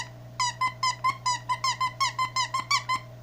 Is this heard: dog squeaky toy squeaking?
yes